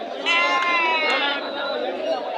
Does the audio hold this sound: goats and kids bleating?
yes